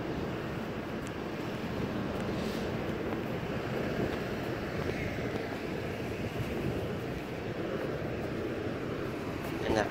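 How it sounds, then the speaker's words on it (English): Steady wind roars across an open outdoor bus loop on a sunny day, a continuous broadband rush with no breaks, buffeting the microphone throughout. "And it's windy too, if you guys can hear."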